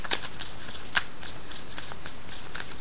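A deck of oracle cards is shuffled by hand close up, with soft, steady riffling and rustling broken by a few sharper snaps and no talking.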